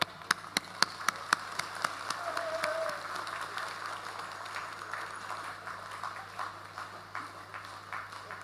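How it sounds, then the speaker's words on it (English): A standing crowd at a Naga students' federation conference session applauds a special guest onto the stage, opening with a few sharp distinct claps and settling into light, spread-out clapping over a steady background hum. "may we all stand up on our feet and receive our special guest with a round of applause"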